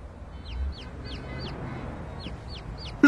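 A chicken gives a run of short, evenly spaced clucks over steady background noise, moderately close, ending with a sudden louder burst.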